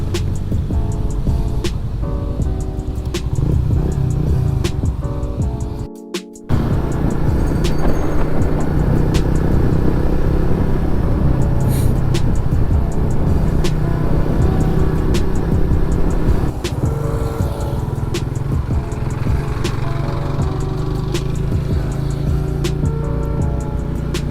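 Car traffic on a highway along Bilagan Road in Santol, La Union, heard as a loud continuous rushing drone of passing engines and tire noise, steady throughout with one brief dropout.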